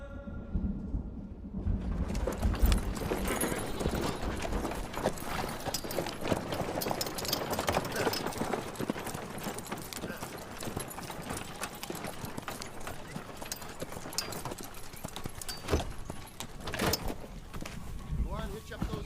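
Horses being hitched up clip-clop steadily throughout, the hoof beats dense and continuous under a broad wash of background noise, with no clear talk in the clip.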